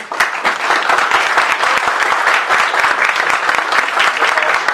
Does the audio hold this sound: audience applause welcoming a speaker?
yes